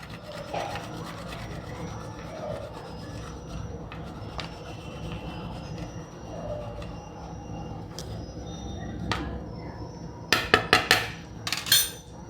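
Khoya being grated for kulfi, heard as quiet, steady rasping and rubbing close by, ending in a few sharper metallic clicks and scrapes of the grater.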